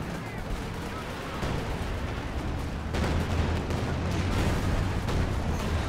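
In a Company of Heroes 2 battle, an artillery barrage rumbles with dense overlapping booms and gunfire under a continuous roar that grows slightly louder. Voices talk over it.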